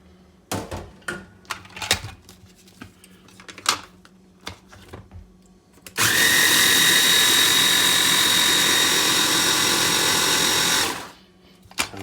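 An electric hand mixer whirs steadily and loudly for about five seconds, blending a cheesecake crust with butter, after a run of scattered clicks and knocks.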